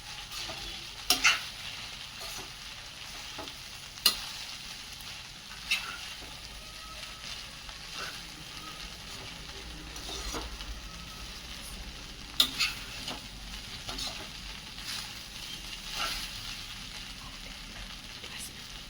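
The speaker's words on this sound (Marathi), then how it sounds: "पोहे टाकून झाल्यावर हे मिक्स करून घ्यायचं। म्हणजे पोह्याला हळद ते व्यवस्थित लागेल।" Kanda poha being stirred with turmeric in a pan, giving a steady soft scraping and gentle sizzle with occasional sharper spoon taps against the pan, close and moderately quiet, with no talk.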